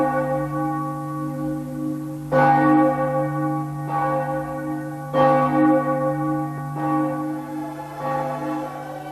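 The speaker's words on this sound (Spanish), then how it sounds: "A las 3 de la tarde sonaban las campanas de la ciudad dando la hora" City church bells ring out the hour, several resonant strikes spaced a few seconds apart, each leaving a long humming decay that overlaps the next, clear and prominent with no voices.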